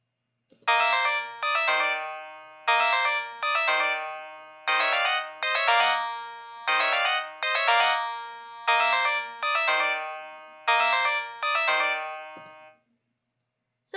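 Bright, bell-like synthesized melody from Bosca Ceoil music software, playing short repeated phrases in a steady rhythm with brief gaps between them, clean and alone.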